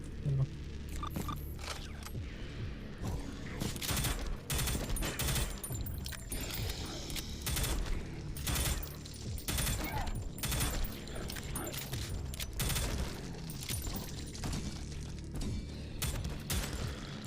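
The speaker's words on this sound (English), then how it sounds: "when you zoom in with this weapon, it turns into a multi-shot, a burst fire" Burst-fire weapon shooting in the first-person shooter Prodeus, rapid clusters of sharp gunshots repeating throughout over a continuous low rumble of game sound, loud and busy with no pauses.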